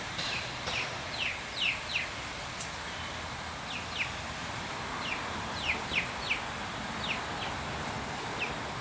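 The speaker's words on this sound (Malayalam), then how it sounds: "അതാ കോഴിക്കുഞ്ഞ് അതിൻ്റെ ഉള്ളിൽ കൂടെ ചാടിയിട്ട് പുറത്തേക്ക് ഇറങ്ങിയേക്കുന്നത്." Chickens and chicks in a garden plot make short, repeated high chirps and clucks in scattered bursts. The calls come from close to moderate range over a steady background hiss, and no one speaks.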